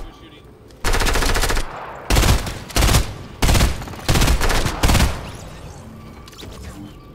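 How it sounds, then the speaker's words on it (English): Video game gunfire in loud bursts: one long automatic burst, then four shorter rapid bursts in a fairly even rhythm, close and harsh, with quiet gaps between. "Who's shooting?"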